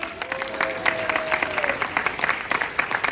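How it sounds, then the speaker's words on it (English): A small audience claps for a boy named Owen at a church talk, steady scattered applause throughout with a brief voice tone under it. "Give a big round of applause for Owen."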